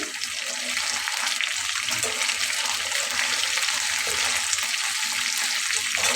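Gule fish frying together in a large frying pan, a loud steady sizzle of hot oil with constant crackling and no voices.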